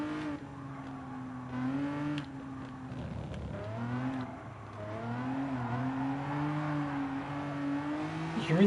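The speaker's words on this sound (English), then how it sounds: "You can really tell the car's sliding or trying to get grip there." Race car in Gran Turismo Sport, its engine note rising and falling as the car slides and hunts for grip, with a steady harmonic drone and a dip mid-run, close and continuous with no talking.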